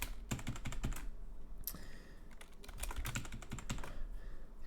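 Code being typed on a computer keyboard, dense bursts of rapid clicking keystrokes up close, with a short pause in the middle before the typing resumes.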